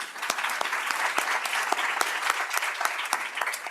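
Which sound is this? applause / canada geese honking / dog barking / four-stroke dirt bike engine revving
applause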